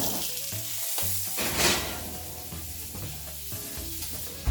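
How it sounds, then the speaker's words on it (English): Pork tenderloin sears in a hot pan, a strong close sizzle that crackles and hisses steadily for a few seconds, with faint stirring or shifting noises and no voices. "now that I've seared it on all 4 sides"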